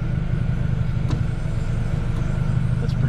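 Motors run loudly beneath the street for San Francisco cable cars, a steady low mechanical rumble and drone heard from close by, with faint higher sounds of passing traffic over it.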